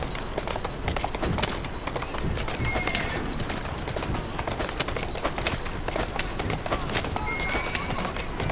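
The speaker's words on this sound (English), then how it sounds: "Who's a good horse? You are." Horse galloping in Assassin's Creed Syndicate, a steady dense clatter of hooves running continuously through a busy game soundscape with bird calls and ambient noise, with voices talking over it.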